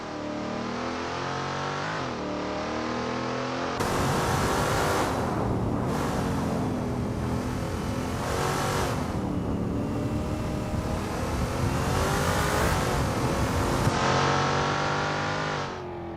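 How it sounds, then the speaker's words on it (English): Simulated NASCAR race car engine at Sonoma Raceway in Assetto Corsa, loud and continuous, revving up and down through gear changes over the whole stretch with no speech. "Roll Postmo is out on track and getting ready to push for their qualifying time"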